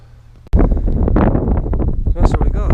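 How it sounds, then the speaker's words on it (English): Outdoors, a sudden gust strikes the microphone with a loud thump, then rumbles and buffets it in heavy, uneven bursts while someone talks under the noise. "Yeah, guess what? It's windy."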